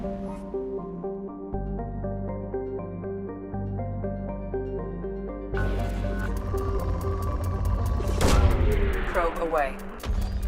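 Probe launch in Mass Effect 2, a swelling mechanical whoosh and burst rising out of a sustained musical drone, loud and close, ending in a sharp, rattling release.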